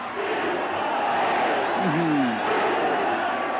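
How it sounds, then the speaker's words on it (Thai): A large crowd at a Muay Thai fight roars and cheers in a steady wall of noise, with a commentator's voice rising over it. "กองเชียร์เยอะจริง ๆ ครับฟังเสียงเสียงเฮครับ"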